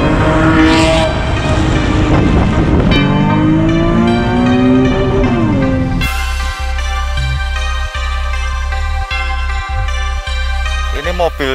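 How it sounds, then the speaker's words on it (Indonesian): A 2010 Nissan Fairlady Z 370Z Nismo S-Tune engine pulls hard and loud, its pitch climbing through the revs, then settles into a steady drone with brief dips that sound like gear changes, with no talking over it. "Ini mobil Nissan Fairlady Z tahun 2010."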